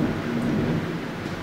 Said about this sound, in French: Attendez, attendez, il y a la tempête.